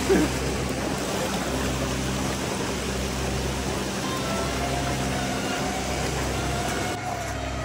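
Steady roar of a river at a third crossing, an even, continuous rush of fast-moving water heard up close, unchanging in level from start to end with no speech.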